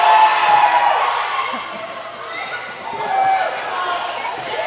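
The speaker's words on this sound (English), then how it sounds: "Got a great cheering section for the Belgreen Bulldogs here on senior night" Crowd noise from a cheering section of Belgreen Bulldogs fans at a high school varsity volleyball match on senior night in a gym, a steady mid-level roar of voices with scattered shouts and chatter throughout.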